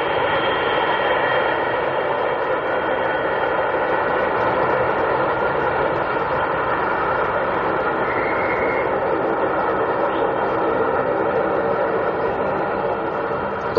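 Steady, loud roar of a jet airliner engine, such as a 727, DC-9 or 737, holding an even, continuous whine and rumble throughout with no talking.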